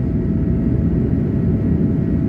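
Steady, loud broadband roar of a jet engine heard from inside a passenger airplane cabin seated beside the engine and wing on a flight to New York, continuous and unbroken throughout.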